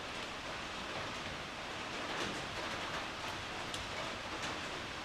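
Steady rain drums on a tin roof, a dense even hiss with faint patters, continuous and fairly quiet throughout with no talk.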